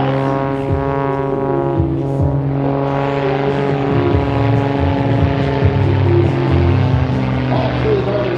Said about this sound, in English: Please welcome Brent Handy, lead pilot of the Northern Stars Aerobatic Team. Into a forward somersault.